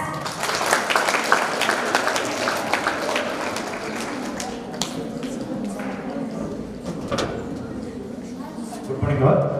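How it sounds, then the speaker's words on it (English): An audience at a foundation's free coaching certificate ceremony breaks into sustained applause, many hands clapping densely for several seconds before the noise trails off and stirring sounds follow. "Claps."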